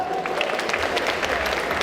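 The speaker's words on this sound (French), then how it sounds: "Alors, on peut l'applaudir encore plus fort." An audience at a hypnosis show at a convention applauds a young volunteer, a dense continuous wash of clapping that stays level throughout its short span.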